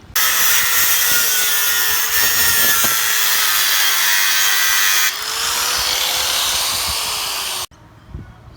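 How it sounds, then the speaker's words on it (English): An angle grinder cuts a wooden post flush for a solar post cap light, a loud continuous close whine with a steady tone that shifts slightly, ending abruptly into quiet. "Just going to get the angle grinder, I'm just going to cut that nice and flush."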